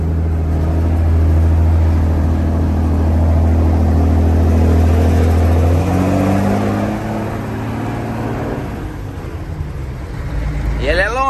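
A five-speed truck with its original engine and gearbox drones loudly while driving. The engine tone climbs and shifts midway, then eases off toward the end.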